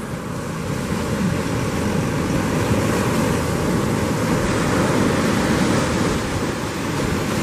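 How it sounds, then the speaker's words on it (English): Waves breaking in a shore dump during extreme boating, a continuous heavy rushing surf mixed with wind buffeting, loud and steady throughout with no voices. "Oh, into that shore dump."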